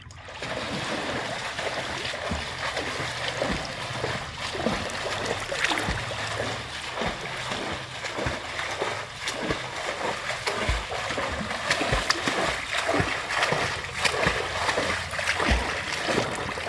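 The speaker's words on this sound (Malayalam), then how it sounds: "നമുക്കൊന്ന് നീളത്തിൽ നീന്താം." A person swimming a length of a pool makes rhythmic, repeated splashes of arm strokes and kicks, steady and fairly close, over the hollow wash of moving water.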